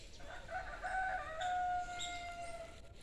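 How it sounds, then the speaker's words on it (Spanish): Faint chickens cluck and a rooster crows some distance off near a house in the countryside, thin calls rising over quiet outdoor background. "Porque oigo cantar gallinas."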